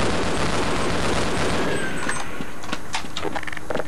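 Rapid bursts of gunfire from the video game Half-Life: Blue Shift, loud and dense at first, then thinning into separate sharp cracks and clanks toward the end.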